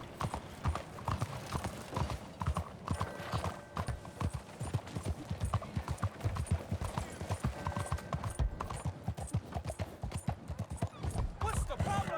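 Horse hooves clip-clop steadily in Red Dead Redemption 2, a continuous rhythmic trot close by with an occasional faint whinny, mixed under ongoing game voices and speech.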